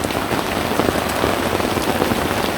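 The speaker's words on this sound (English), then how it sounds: "But I do love me some good rain." Heavy rain pounds steadily on a bush tent, a loud, dense, continuous patter of drops close overhead with no voices.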